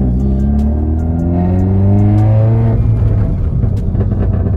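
A Peugeot 308 GTi engine accelerates hard on a country road, its loud, steady tone climbing in pitch through a rising pull, briefly easing, then holding a strong drone.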